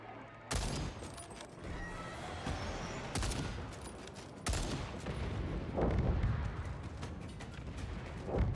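Rapid gunfire erupts in the sci-fi shooter Second Extinction, dense bursts and sharp cracks layered over continuous battle noise, with louder volleys at the start and midway and steady shooting throughout, no voices.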